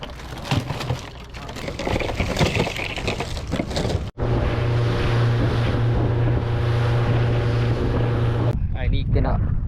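A fishing boat's engine drones steadily at sea on a trip for kerisi fish, heard alongside wind buffeting the microphone and splashing water, with a brief cut partway through and talk in the first part.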